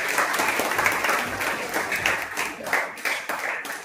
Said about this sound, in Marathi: सर्वांनी सणांच्या सन्मानार्थ टाळ्या वाजवून सणांचं स्वागत करायचं.